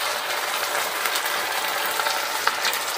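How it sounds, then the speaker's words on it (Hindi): Aloo bread rolls fry in ghee in a kadhai, giving a continuous close crackling sizzle with small pops and no talk. "अब ये ब्रेड रोल हमने कढ़ाई में डाल दिए घी वाली में"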